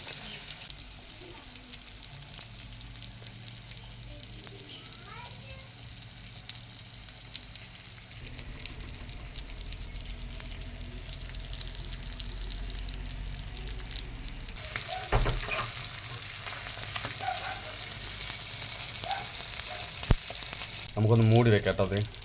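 Fish frying in hot oil in a pan, a steady close sizzle that runs throughout and grows brighter and louder in the latter half, with occasional faint clinks.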